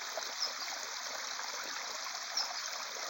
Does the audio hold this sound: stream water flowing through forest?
yes